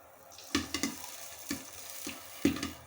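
Popcorn kernels popping as they fry in a pan over medium-low heat, a handful of sharp, irregular pops over a soft background sizzle, with no one talking.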